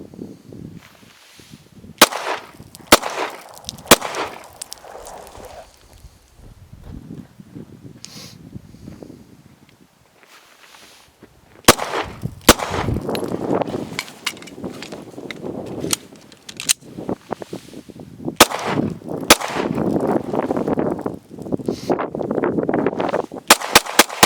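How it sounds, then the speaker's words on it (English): Pistol fired in rapid strings of three to five rounds during defensive shooting drills, sharp loud cracks in tight bursts separated by pauses, with outdoor wind and shuffling noise between strings. "shooting these multiple shot strings between 3 to 5 rounds"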